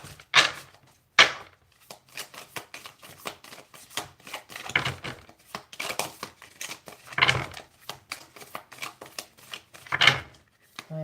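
Tarot cards shuffled by hand during a reading, an irregular run of crisp riffling and slapping bursts, close and fairly loud, with no talk.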